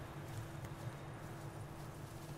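Horse hooves clip-clop at a steady, moderate trot in The Witcher 3, a low, even patter under a constant background hum, with no voices.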